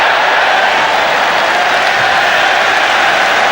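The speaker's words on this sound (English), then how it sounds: "Closing by Willemo gets a warm round of applause." A stadium crowd at a Scotland versus Argentina football match applauds warmly, a dense, continuous roar of clapping and cheering that holds steady and loud throughout.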